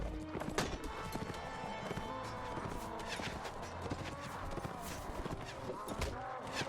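Steady clip-clop of horse hooves at a walking pace in the video game Mount and Blade: Warband on Xbox, mixed with busy game sounds and a voice talking over it.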